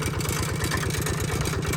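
A tractor engine idles in a steady low chug with a regular throbbing pulse, close and fairly loud, while the tractor is being unloaded.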